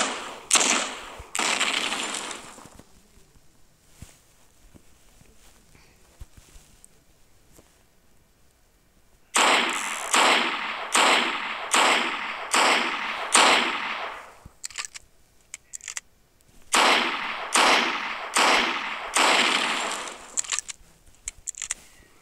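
Rapid bursts of gunfire from the video game Hypper Sandbox, loud clustered volleys of quick shots with a pause in between, then two long runs of evenly spaced rapid shots.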